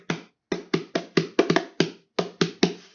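Ukulele strummed in a fandango rhythm: about a dozen sharp, percussive strokes in an uneven, rolling pattern with short gaps, close and clear, each stroke decaying quickly, no voices.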